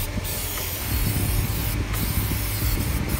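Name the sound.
spraying a cleaner from a spray bottle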